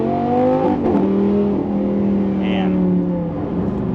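A Lamborghini sports car engine accelerating hard in sport mode, heard from inside as the revs climb in rising sweeps, drop briefly at a gear change and build again, loud and close, with no talking over it.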